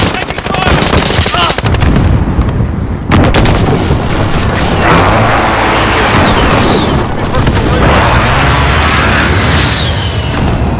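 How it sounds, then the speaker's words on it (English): Precision airstrike explosions in Call of Duty Modern Warfare on a Euphrates bridge map: loud, dense booms and rumbling blasts mixed with rapid gunfire, continuous and close, with game voices calling out over them. "Enemy precision airstrike."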